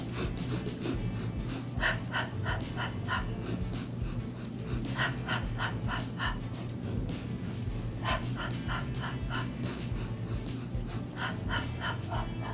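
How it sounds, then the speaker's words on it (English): Rhythmic Pilates breathing during the hundred exercise, with short sharp exhales in repeated bursts of about five, heard steadily over a continuous background hum. "we're gonna go into the 100 breathing with it"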